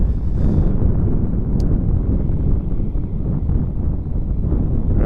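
Strong wind buffets the microphone at an airfield, a loud, constant low roar and rumble that fills the whole stretch with no other clear sounds.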